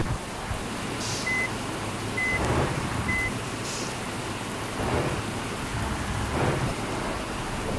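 Rain and thunder in the bus driving game Bus Simulator Indonesia: a steady downpour hiss with several deep rolling thunder rumbles, plus a few short electronic beeps.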